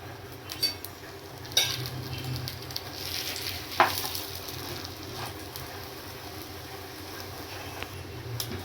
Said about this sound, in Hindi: दोनों साइड से ऑयल लगा के इसको फ्राई कर लेंगे मतलब।